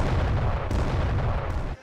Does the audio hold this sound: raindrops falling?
no